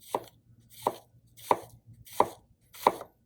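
A knife slices through an onion on a cutting board for pico de gallo, five crisp evenly spaced chops in a steady rhythm, close and clear with no talk.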